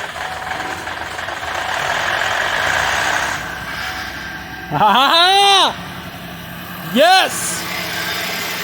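A Buick Enclave engine cranks and runs with a rough, uneven misfire, a steady mid-level rumble that drops slightly partway through, while people shout excitedly nearby.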